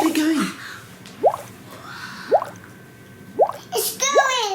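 Homemade lava lamp bubbling, giving four soft rising bloops spaced about a second apart, with a voice chattering close by and a short squeal at the end.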